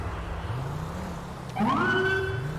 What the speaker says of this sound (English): Sirens work.